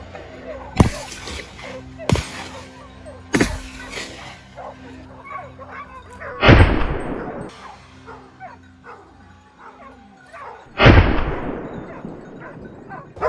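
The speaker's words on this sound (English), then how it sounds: "Without hesitation, rapid shots rang out, giving it no chance to react." Gunshots during a wild boar hunt in dense bush, loud cracks spaced a few seconds apart, with hunting dogs barking and yipping between them.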